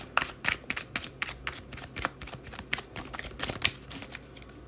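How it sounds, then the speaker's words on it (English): Tarot cards are shuffled in a rapid run of crisp riffling snaps, close and fairly loud, each flick sharp and irregularly spaced. "I'm going to keep shuffling"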